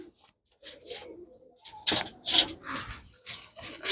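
A female Madina pigeon coos in short, soft bursts nearby, mixed with a few sharper flutters and handling noises in a quiet setting.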